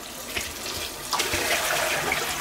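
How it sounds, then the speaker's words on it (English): Frozen fumbwa leaves are washed under a running tap, giving a steady close splash of flowing water with small bursts as the leaves are moved through the stream. "So I'm gonna wash it very well"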